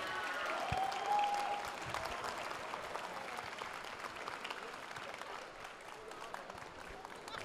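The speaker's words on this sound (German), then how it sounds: "Ein Applaus!" Audience applause at a convention award ceremony, a broad wash of many hands clapping that swells early and then fades slightly while holding steady, with faint voices mixed in.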